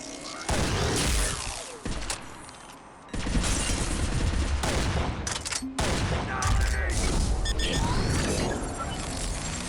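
Shotgun blasts and other weapons fire echo through a Mass Effect firefight, with repeated heavy shots and crashes coming in dense clusters across several seconds and brief lulls between them.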